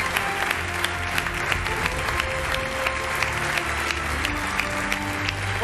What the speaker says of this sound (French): On va vous demander à vous tous une standing ovation, s'il vous plaît.